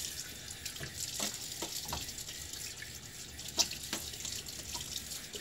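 Tap water running to rinse a razor during a wet shave, a faint steady splash with small drips and clinks, heard alone.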